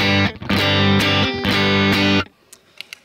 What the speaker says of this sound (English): So then adding the compressor sounds like this.